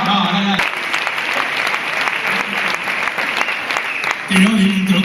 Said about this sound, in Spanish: Gracias por ese gran aplauso.